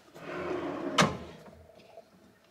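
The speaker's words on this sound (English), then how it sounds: "Another drawer." A single sharp wooden thud as a hotel room drawer slides and bumps shut, close and fairly loud, with faint rustling before and after.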